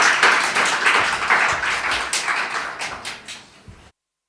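An audience applauds, a burst of many hands clapping that swells and then tapers off before stopping abruptly.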